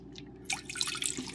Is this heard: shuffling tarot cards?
no